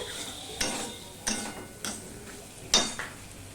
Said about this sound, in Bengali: এবার মশলাটা আমি ভালো করে কষিয়ে নেব